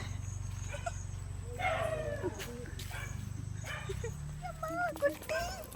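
A dog barks in several short, harmonic bursts at close range, mixed with people talking and a low steady rumble underneath.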